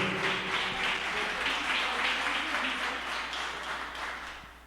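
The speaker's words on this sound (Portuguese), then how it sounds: "dá uma linda salva de palmas para o Senhor Jesus Cristo" A church congregation applauds during a worship service, a dense, steady wash of many hands clapping at once, sustained and fairly loud throughout before easing slightly at the end.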